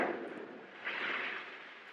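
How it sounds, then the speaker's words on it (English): Neighborhood fireworks go off as muffled, rumbling bursts that roll on for about two seconds, moderately loud with no talking. "It's the fireworks. They're lighting early, I guess, in my neighborhood."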